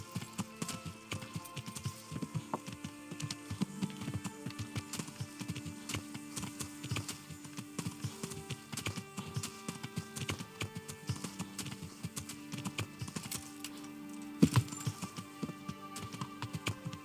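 Hooves of a galloping horse in the video game Kingdom Come: Deliverance beat in a quick, steady clip-clop rhythm under quiet ambient music and game sounds.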